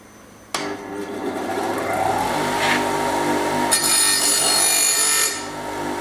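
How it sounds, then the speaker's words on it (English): An angle grinder starts abruptly and whines steadily, loud and close, as it cleans up sawn wooden edges in a rustic farmhouse renovation, with a harsher grinding burst toward the end before it eases off. "The next job is to just get the angle grinder, the bench grinder, and just clean up the sawn edges."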